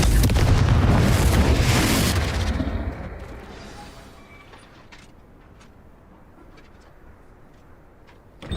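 A Confringo blasting spell in the video game Hogwarts Legacy erupts in a loud, deep explosion that rumbles for a couple of seconds, then fades into a low ambient hush with faint scattered sounds.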